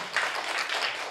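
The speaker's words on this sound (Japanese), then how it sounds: "その隣キャンサーが良かったと思う方拍手をどうぞ" Audience applause at an improv theatre show voting for a performer, a brief burst of scattered clapping from a small crowd at moderate distance.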